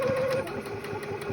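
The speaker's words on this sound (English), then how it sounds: "I'm sewing the second side now, reinforcing the elastic." A sewing machine stitching elastic onto a reusable fabric face mask, a steady rapid mechanical whir with a fast needle rhythm, close and continuous.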